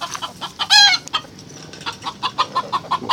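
A black-meat chicken clucks in a series of short, close bursts, with one louder squawk early on and a quick run of rhythmic clucks afterward.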